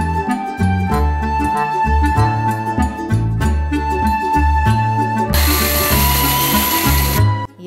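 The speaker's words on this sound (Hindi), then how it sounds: "थोड़ा दरदरा ग्राइंड करेंगे।" Raw sweet corn being ground coarsely in a kitchen grinder produces a loud, churning, rattling motor whir with uneven pulsing, rising into a harsher high-pitched spin near the end before cutting off.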